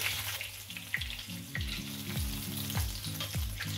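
Halloumi cheese pieces fry in hot oil with a steady, close sizzle, punctuated by several clacks and scrapes as the crispy golden slices are lifted out of the pan.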